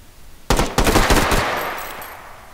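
Rapid automatic gunfire in the video game Hot Dogs, Horseshoes and Hand Grenades, two loud close bursts of shots that ring out and decay into a fading echo.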